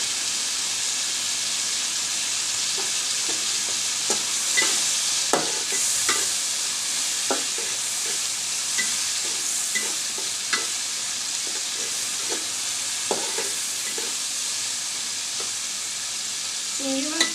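Four slit green chilies fry in hot oil in a pan, giving a steady, close sizzle with scattered sharp pops and crackles throughout and no talking.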